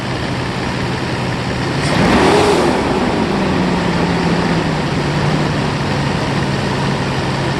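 A Mercedes 600SEL V12 engine idles steadily, then revs up briefly in one smooth rise and falls back to a settled idle.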